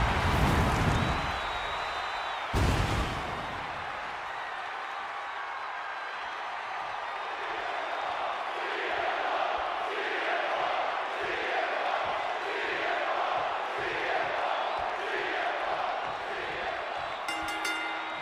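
A WWE Universe crowd in the WWE 2K26 video game cheering, opening with a loud roar and a sharp bang, then settling into a rhythmic, pulsing chant that carries steadily to the end.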